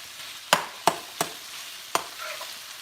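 A home lunch cooks in a pan while a utensil stirs it, giving four sharp, close clacks spaced unevenly against a quiet background of faint sizzle, with no voices.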